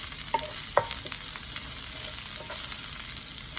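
Green beans and smoked apple sage sausage fry in a pan under a constant soft sizzle, with a few brief scrapes and clicks from stirring near the start.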